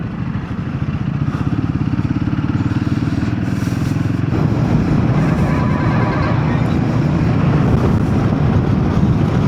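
Motorcycle engine running steadily while riding on a highway on a hot day, a loud close rumble with wind rush that builds slightly partway through, no talking.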